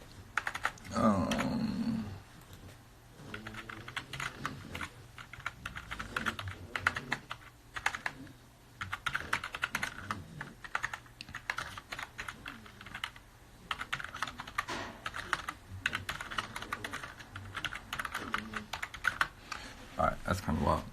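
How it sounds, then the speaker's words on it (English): Fingers clatter across a computer keyboard in irregular, fast bursts of clicks, one-handed, loud and close, with speech occasionally mixed in. "I type kind of ridiculously with one hand."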